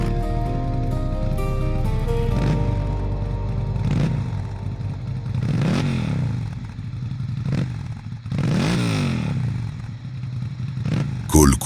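A motorcycle engine runs with a steady low rumble and a few rising and falling swells, under a spoken voice throughout.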